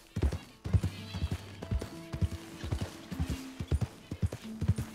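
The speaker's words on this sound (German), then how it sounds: "Da sind auch ein paar schöne Pferdchen." Horses in the video game Red Dead Redemption 2 walk with steady, repeated clip-clop hoofbeats, and whinnies break through in between, with a voice faintly present.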